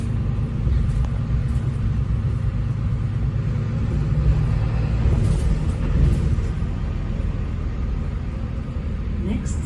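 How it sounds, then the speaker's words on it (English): A Mercedes-Benz Citaro bus engine under full throttle, a deep steady rumble and drone heard from inside the bus as it accelerates along a road, fairly loud and continuous. "it's time to really hear some of what this bus's engine is capable of as we hit the throttle"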